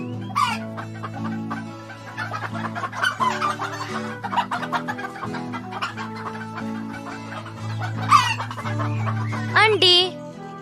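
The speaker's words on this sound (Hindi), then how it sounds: "मुर्गी" A chicken clucks in repeated short bursts over a continuous musical backing, with a few sharper squawks rising out toward the end.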